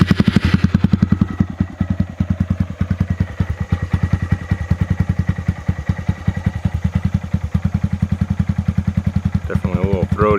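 Honda Monkey fitted with a TB Parts stainless exhaust, pipe only without baffle, idling close by with a steady, throaty pulsing rhythm, loud and alone, a voice briefly starting at the end.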